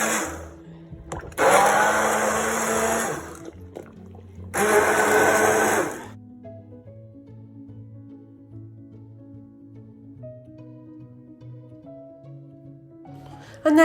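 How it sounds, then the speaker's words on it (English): A stick blender whirs through leek and potato soup in two loud bursts of about three and one and a half seconds, with a short pause between, then falls to quiet kitchen hum. "I always make sure that the bottom of the blender is submerged in the liquid before I press the button."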